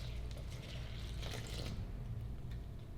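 Two and a half cups of water poured into protein cake batter in a mixing bowl, a faint, soft liquid splashing that swells briefly in the middle and trails off quietly.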